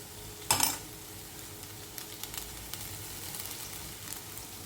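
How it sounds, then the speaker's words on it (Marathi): Cooked rice tipped into melted jaggery in a hot pan: a sharp sizzling burst at the drop, then a quieter steady sizzle with light scraping and stirring clinks. "गूळ छान प्रकारे मेल्ट झालेला आहे आणि आता आपण हा जो भात आहे हा भात त्याच्यात सोडूया"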